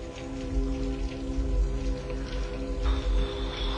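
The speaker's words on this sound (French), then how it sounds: "Ça fait 3 jours qu'il pleut." Rain keeps falling steadily outside a rented house in Brittany, a close, continuous patter of drops over a low rumble.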